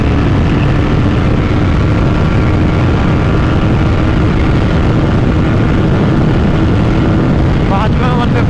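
A Bajaj Pulsar NS 400 motorcycle runs hard in fifth gear down a highway, with loud, constant engine drone and heavy wind rush that stay steady throughout.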